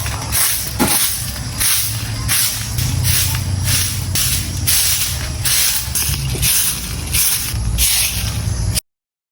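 A broom sweeps leaves outside a house in rhythmic, hissing strokes that repeat close and fairly loud for several seconds, then cut off abruptly.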